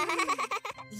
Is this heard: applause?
no